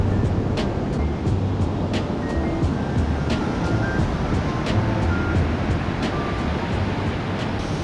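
Ocean surf on a beach at Narigama, Hikkaduwa in Sri Lanka: a continuous loud wash of waves with low rumble, steady throughout without pause, occasional faint clicks over it.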